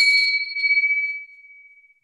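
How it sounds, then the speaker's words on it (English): A single bell is struck once to close a Rotary club meeting, a bright clear ding that rings on and slowly fades over about two seconds, alone without voices. "The lovely sound of the bell."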